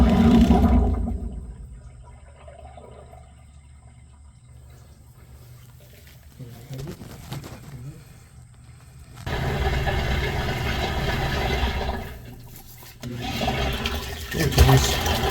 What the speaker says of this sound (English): Oh, I hear the flush.